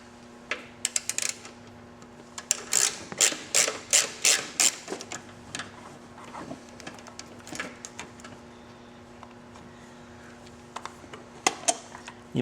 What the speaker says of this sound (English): It takes a 6mm Allen socket to get that out.